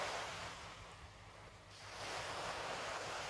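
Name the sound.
strong ocean waves at Cheung Sha beach, Lantau Island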